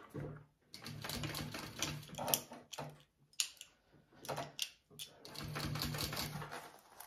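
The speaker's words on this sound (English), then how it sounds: "now I'm going to top stitch on this part of my top panel, okay, right by my zipper at an eighth of an inch" A sewing machine top stitches a vinyl crossbody bag panel an eighth of an inch from the zipper, making close, rapid mechanical clatter in several bursts of varying length separated by short pauses.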